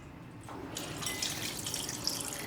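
Running water splashes steadily into a bowl of chicken hearts, a continuous hissing pour that grows slightly louder partway through, with no voices.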